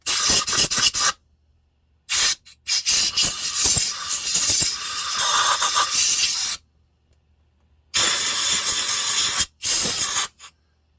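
Compressed air blasting shavings off a Neo-tec Stihl MS380 clone chainsaw: loud, close hissing spray bursts in several separate blasts with silent gaps between them.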